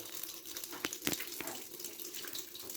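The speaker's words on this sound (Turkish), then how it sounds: "Buradan su çıkacak. Burada hava olayı falan kalmamalı." Water spurts and gurgles steadily from the bleed valve of a central heating radiator, a continuous hissing splash with a few sharper bursts, close by and with no voices.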